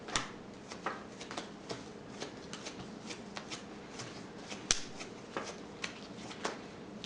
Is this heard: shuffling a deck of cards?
yes